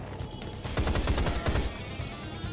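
A weapon in Rise of the Triad (2013) lets off a fast burst of gunfire, around a dozen rapid shots over a second, close and punchy with a steady rumble behind. No talking.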